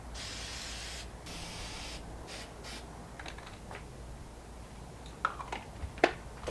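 A rattle can sprays paint onto homemade hubs, giving a soft hissing burst at the start and a few shorter hisses after it, followed by light clicks and taps, all fairly faint.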